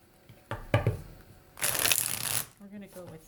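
Tarot cards are shuffled once in a short, close riffle, loose and a little uneven, with brief handling noises before and after.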